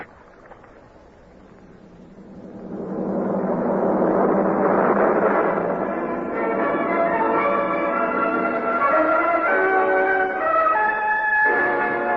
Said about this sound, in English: listen to all those bells